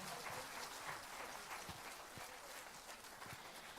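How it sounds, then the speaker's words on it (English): Steady applause from a large audience at a church celebration, a continuous patter of many hands clapping, fairly faint and distant with no speech over it. "A thunderous clap for Mother."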